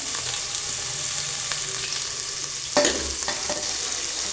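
Onion tossed into hot oil with roasted cumin for kadhi sizzles steadily up close, with a louder hiss and a few utensil stirs partway through as the onion hits the pan.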